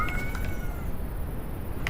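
A cat in a horror video game meows briefly a couple of times at the start over a steady background hum, then only the hum continues.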